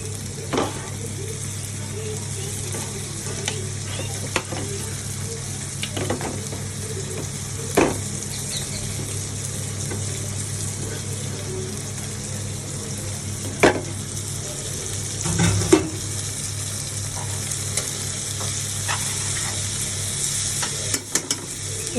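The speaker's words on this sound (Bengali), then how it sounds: "ওই ভেজে রাখা তেলের মধ্যে পেঁয়াজ দিয়ে নিয়েছি" Onions frying in oil with ginger, garlic, cumin paste, turmeric, salt and chili powder, a steady close sizzle with occasional scrapes and taps of a spoon against the pan.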